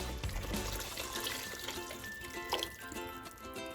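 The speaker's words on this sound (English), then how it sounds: "I'm going to add 1 cup of milk to it" A cup of milk poured into a simmering potato curry masala, a continuous close pouring and bubbling wash that holds at a steady level for the few seconds it lasts.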